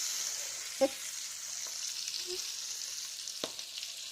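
A fish frying in oil in a pan, a steady soft sizzle with a few sharp clinks and scrapes of a utensil against the pan.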